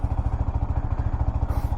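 A six-year-old Yamaha motorcycle with a modified exhaust idles close by, its engine giving a steady, rapid, even thumping pulse with a slight mechanical clatter throughout.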